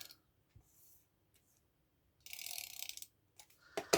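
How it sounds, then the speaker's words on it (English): A tape runner dispensing adhesive onto the back of a paper stamped layer for cardmaking, heard as a short rasping, ratcheting burst with a few faint clicks and taps before and a sharper rustle at the end, close and quiet, no talking. "just adding a little bit of tape runner, oops, on the back here"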